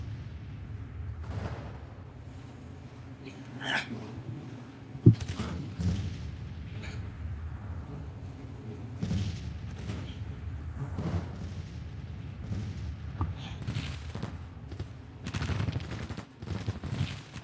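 Artillery fire in the Grand Tactician strategy game: low rumbling booms and scattered gunfire crackle throughout, with one sharp loud report near the middle and steady battle din underneath.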